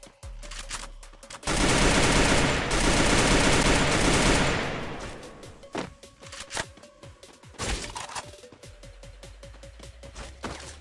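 Automatic gunfire rattles through a Free Fire match: a dense, loud sustained burst lasting a few seconds, then scattered sharp shots and short volleys crack at close range, with no talk over them.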